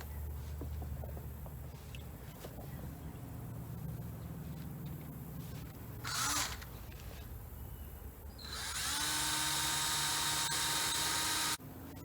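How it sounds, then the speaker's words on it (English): A drill whines loudly for a few seconds boring holes in metal, against a quiet mechanical background, with an earlier brief burst of drilling. "Now it's time to drill."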